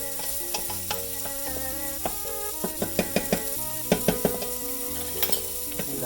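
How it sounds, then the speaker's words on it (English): Rice is stirred in a hot pan with a utensil, a run of scraping strokes and light taps over a soft steady sizzle, close, with no talking. "I like to keep stirring the rice so it doesn't all stick together"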